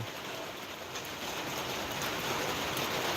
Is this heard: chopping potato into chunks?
no